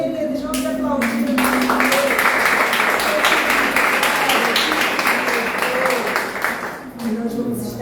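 A church congregation applauds during a Sunday worship service, sustained dense clapping that fills the space, with singing or voices carrying on underneath.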